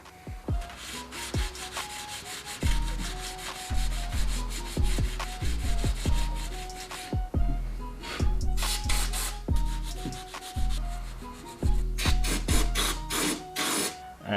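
The oil pan mounting area on a Fiat 126p engine is scrubbed by hand with steady, rhythmic rubbing and scraping strokes, close and clear, with no talking.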